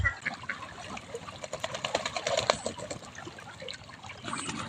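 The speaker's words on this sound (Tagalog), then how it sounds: "umagos na po yung tubig sa irrigation" Irrigation water flows and trickles steadily along a channel at a duck pasture, a continuous splashing, gurgling wash at close range with no talking.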